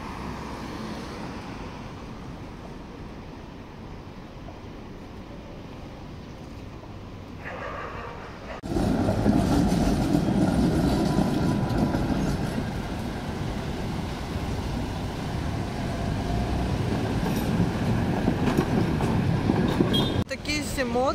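A number 7 tram in Riga rumbles loudly along its rails, a continuous grinding roar starting partway through, with street noise and faint voices around.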